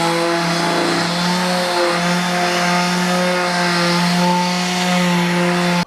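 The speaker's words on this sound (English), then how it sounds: "I'm just going to do a quick sand on this with 150." A power sander works plywood with 150-grit paper, a loud, steady motor whine that holds an even pitch throughout, with no voices.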